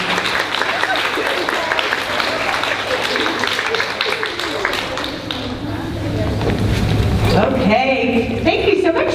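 An audience at an elementary school fifth grade celebration applauds steadily and loudly, with cheering voices mixed into the dense clapping, which swells again near the end.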